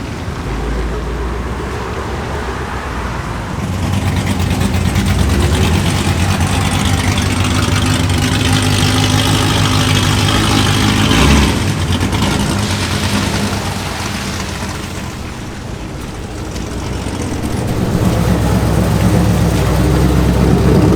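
An Audi R8 sports car engine drones steadily from inside the car on a drive through the Ozark Mountains, a loud continuous low rumble that swells and eases slightly as the car cruises, with no talk over it.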